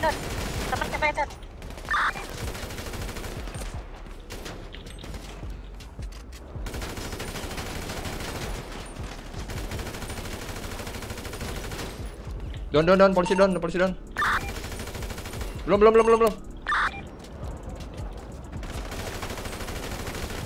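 GTA V gunfire rattles in long, dense volleys across the whole stretch while players talk over it in short exchanges.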